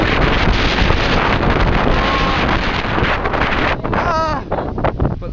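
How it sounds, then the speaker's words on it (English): Strong wind buffets a hilltop on a walk in the rain, roaring loudly and steadily against the microphone for the whole stretch, with a brief lull near the end. "It's very windy and there's a nice view."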